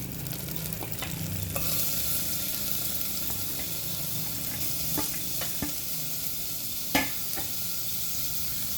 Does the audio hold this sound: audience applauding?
no